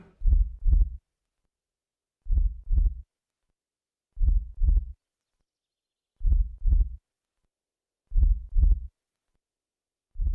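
A slow, steady heartbeat thumps in close double beats, each pair separated by about two seconds of silence, with nothing else heard.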